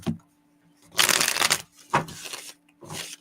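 Tarot cards being shuffled close by in three bursts of crisp riffling, the first longest, separated by short pauses.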